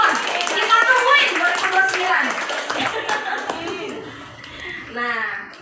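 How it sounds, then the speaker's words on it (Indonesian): Audience at a business marketing presentation clapping hands, scattered claps mixed with chuckles and a talking voice over them, fading toward the end. "Tepuk tangan teman-teman."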